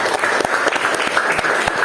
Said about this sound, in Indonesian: Oke, tepuk tangan pada teman kalian